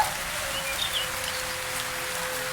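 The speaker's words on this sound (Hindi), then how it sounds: "पर बारिश रुकने का इंतजार कर लो, फिर चली जाना।" Rain falls steadily as a continuous, even hiss of drops at moderate level, with no voices and no distinct individual splashes standing out.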